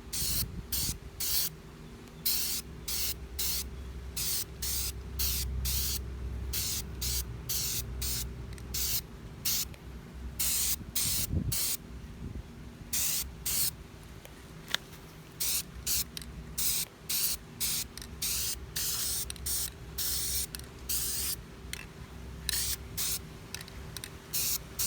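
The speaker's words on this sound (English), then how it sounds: "spray the outer layer one last time" A spray can coats the outer layer of a car rim during restoration, with many short, close hissing bursts in rapid, irregular succession.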